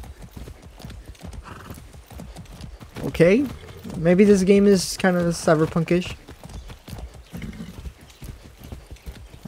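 In the video game Far Cry 6, a horse's hooves clip-clop steadily with a loud whinny partway through, heard under someone talking.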